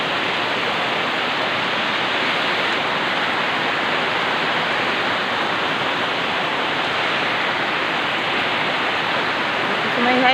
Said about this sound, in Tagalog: nagpitakusog ang uwan